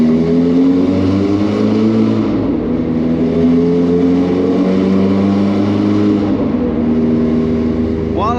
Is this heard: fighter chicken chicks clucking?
no